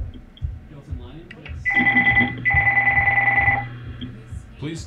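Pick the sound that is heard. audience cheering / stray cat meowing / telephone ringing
telephone ringing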